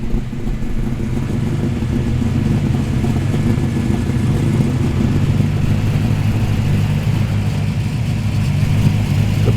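V8 engines burble at a Sydney car show, a loud, continuous low rumble of idling and gently revving motors heard close by, steady throughout with no talking.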